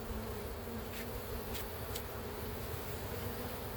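Dense, steady buzzing of many honeybees in a heavily populated hive during a spring inspection, a continuous close drone with no talking.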